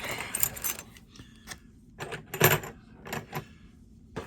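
A big pile of blank keys jangles and clatters as they are handled, with several bursts of metallic jingling and brief quiet gaps between them.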